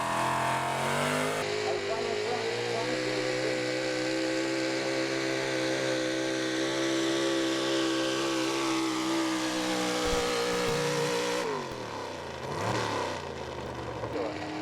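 A big-block high-output 4x4 pulling truck roars loud and close down a dirt pulling track, its engine holding a strained, steady drone for about ten seconds before dropping off and revving again, with an announcer's voice underneath.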